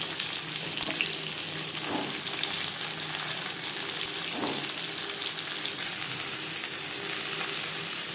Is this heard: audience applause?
no